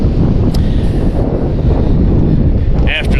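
Steady, loud wind buffeting the microphone outdoors at a wet skid pad, a continuous low roar with gusty rumble throughout.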